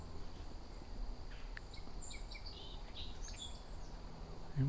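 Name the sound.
song sparrow singing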